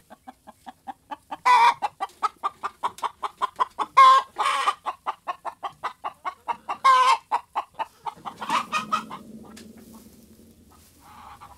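Chickens in a coop cluck in a rapid, rhythmic run of short notes, with a few louder squawks breaking in, before the sound trails off into a softer, muffled rustle.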